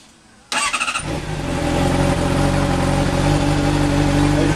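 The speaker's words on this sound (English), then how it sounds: "Let me go ahead and start this up." A Honda CBR 600RR motorcycle with a gutted exhaust cranks briefly, then catches and settles into a steady, loud, rumbling idle, close to the microphone.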